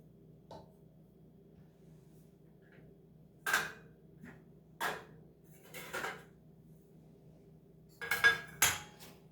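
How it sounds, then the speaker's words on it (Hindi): Metal household utensils, including those used for worship, scrubbed and handled at a kitchen sink with Pitambari cleaning powder: a few scattered clinks and scraping clatters, moderately close, with pauses between them over a low steady background hum. "पीताम्बरी से बर्तन मांगे जा रहे हैं"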